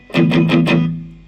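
Distorted electric guitar through a Cuvave Baby mini multi-effects unit with amp cabinet simulation, four quick strummed chord hits in a row followed by a ringing sustain that fades out, played alone and fairly loud.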